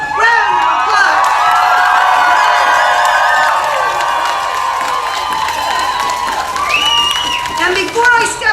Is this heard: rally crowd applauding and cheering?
yes